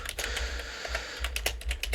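Typing on a computer keyboard, a steady run of close, fairly loud key clicks with uneven rhythm and a few heavier strokes, alone with no talking.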